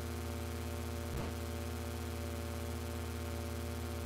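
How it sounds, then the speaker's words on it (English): Steady droning helicopter engine from the NES game Ninja Gaiden, a constant low rumble with hiss, plus one brief thump partway through. "That's the helicopter I'd fly in today."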